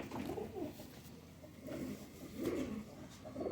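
A large Khatang pigeon coos close by in a few repeated low, throaty bursts, with quiet gaps between them and no talking.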